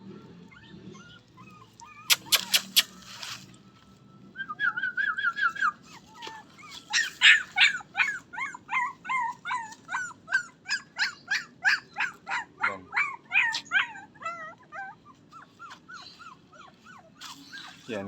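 A dog barks and yips repeatedly in quick rhythmic bursts, close by, with some whimpering high notes in between.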